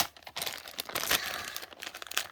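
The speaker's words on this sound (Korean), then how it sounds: "첫 번째 비닐 봉지." A plastic bag holding Pokémon figures is torn open with bursts of close crinkling and crumpling, no talk over it.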